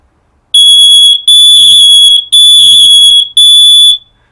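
An interlinked household smoke alarm shrieks its piercing high electronic tone in four long loud pulses separated by short gaps, very close and with no voices.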